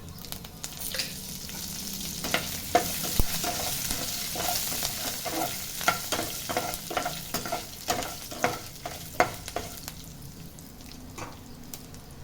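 Cumin seeds and curry leaves fry in hot oil in a pan for a mutton gravy, giving a steady soft sizzle, with stirring scrapes and taps rising in the middle and no voices.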